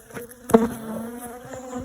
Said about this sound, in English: We still got quite a few bees flying around me